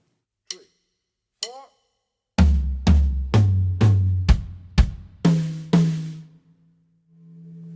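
Two soft sticks clicks count in, then a drum fill on toms alone rolls down in eight close, booming strokes, each ringing out before the next, ending on a low sustained tom.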